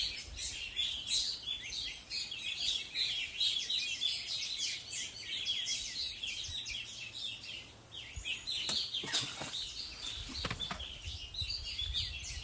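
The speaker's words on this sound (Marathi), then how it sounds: "वर्डिटर फ्लाय कॅचर," A verditer flycatcher calls in the wild: thin, high, repeated chirping notes over a steady background of other faint birdsong, moderately distant and with no voices.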